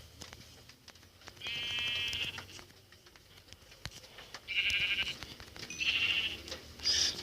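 Sheep in Minecraft Pocket Edition bleating in a few short, nasal calls spaced a second or two apart over quiet game sounds and clicks.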